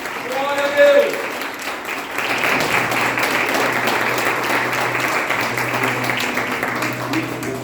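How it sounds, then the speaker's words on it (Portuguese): Church congregation applauding during a Portuguese-language worship service, a broad wash of clapping that swells after a brief spoken moment and holds steady, with a low hum and faint voices underneath. "Você pode aplaudir o Senhor para a vida do servo"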